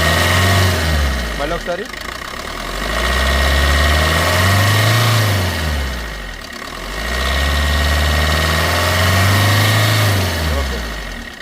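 A used local car's engine idles with a low rumble, swelling twice as the accelerator is pressed and easing back to idle; someone speaks briefly over the engine noise.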